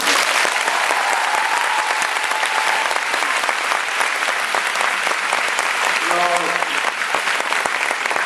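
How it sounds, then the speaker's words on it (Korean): Dense, loud theatre applause fills a packed house after the final performance of the musical Doctor Zhivago, continuous clapping throughout with faint crowd voices and a brief tonal murmur near the end. "박수 더 많이 쳐드려야 돼요."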